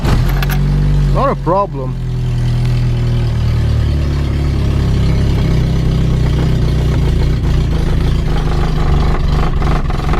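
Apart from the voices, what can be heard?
1984 Opel Corsa A engine cold starting and rough idling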